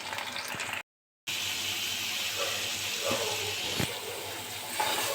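Spices being sautéed in a pan for a spicy dish: a continuous broad hiss and sizzle, fairly close, broken by a brief silent gap near the start and a few faint clicks of stirring.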